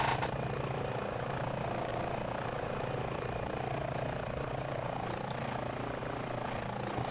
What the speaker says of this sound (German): Kann ich wunderbar landen mit dem Hubschrauber.